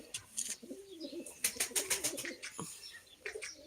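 Soft, low pigeon coos repeating close by in a coop, mixed with faint chirps and a busy rustling background.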